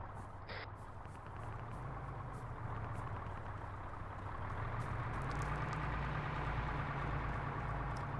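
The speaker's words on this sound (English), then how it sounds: "coming back with the truck" A truck's engine idles steadily at a moderate distance, a low continuous drone that grows slightly louder toward the end, with faint background noise and no clear talk.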